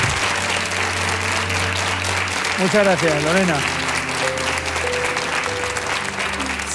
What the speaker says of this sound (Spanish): y este aplauso es para ti.